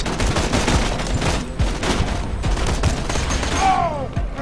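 Dense game gunfire in Borderlands 2 aimed at an explosive gas tank: loud, continuous bursts of shots with sharp repeated cracks throughout, ending in a rising whine.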